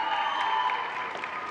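Audience applause at a Hinckley High School graduation ceremony, a steady dense wash of clapping and crowd noise filling the short moment without letup.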